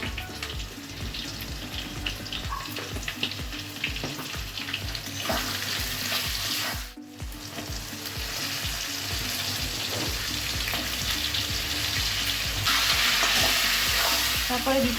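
Vegetables with salt and turmeric fry lightly in a pan, giving a continuous close sizzle broken by frequent stirring clatter, a brief pause near the middle, and running water from a tap or sink toward the end.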